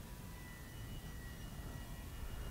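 An FMS Pilatus PC-21 RC plane, a 1100 mm five-bladed propeller model on its maiden flight, drones steadily overhead, its engine a continuous moderate whir that swells slightly toward the end.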